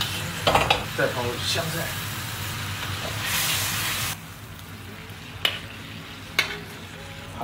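Garlic and coriander stir-fried in a hot wok, with a steady sizzle and a few sharp scrapes of the spatula. A voice speaks briefly over the cooking.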